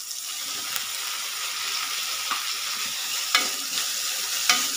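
Thuthuvalai leaves and tomato sautéing in a pan make a steady, close frying hiss, with a few sharp clicks of stirring scattered through it and no talk.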